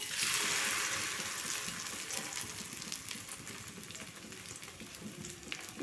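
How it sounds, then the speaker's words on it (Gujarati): Bottle gourd batter sizzles loudly in hot oil in a pan with sesame seeds, a strong hiss from the start that eases slightly to a steady crackle with no talking. "બેટર એડ કરવાનું છે"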